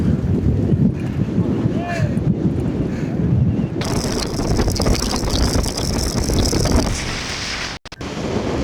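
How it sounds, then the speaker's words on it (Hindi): Strong monsoon wind gusts across an exposed mountain ridge on a trek, roaring and buffeting the microphone loudly and continuously, with voices talking and exclaiming over it. "अब हवा फील करो, इतनी तेज़ है ये हवा"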